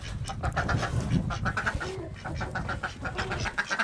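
Busy farmyard clamor of chickens clucking and ducks quacking close by, overlapping short calls and rustling in an irregular, continuous jumble.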